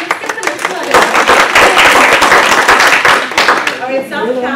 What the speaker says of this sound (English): Yeah, let's get some applause.